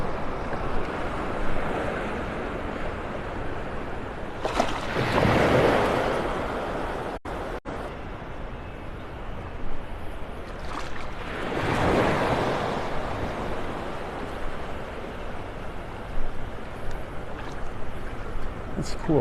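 Gulf of Mexico surf breaking on the beach at Pelican Bay in North Naples, Florida, heard up close with steady wash and wind noise, two big surging crashes rising and fading about seven seconds apart, with someone talking at times.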